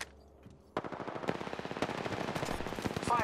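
Automatic weapons fire in rapid bursts during an Apex Legends match: after a quiet opening, a dense, fast run of sharp shots rattles on without pause, loud and close.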